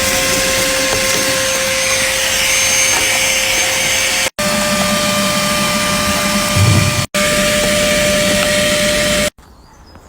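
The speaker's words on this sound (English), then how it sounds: "Now it's noisy hoover time." A loud vacuum cleaner cleans a pool's bench and mechanism, droning steadily with a high whine, cutting out briefly twice and then switching off near the end.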